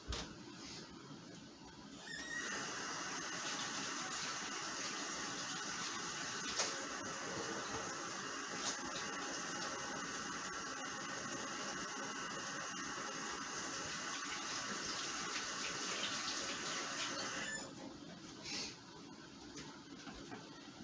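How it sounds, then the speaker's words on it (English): Water runs steadily from a kitchen tap as hands are washed at the sink, a constant hissing splash that starts after a couple of seconds, holds for about fifteen seconds, then cuts off. "I'm going to wash my hands."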